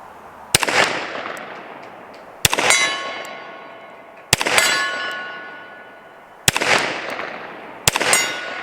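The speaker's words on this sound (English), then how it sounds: "Let's see if we can hit the 8-inch gong." Bullets from a Kimber Longslide Target 10mm pistol strike an 8-inch steel gong five times, each shot a sharp ringing clang that decays slowly, spaced about two seconds apart with no talking.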